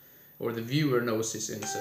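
Electronic telephone beeps from a phone sound briefly near the end, underneath a man's ongoing speech.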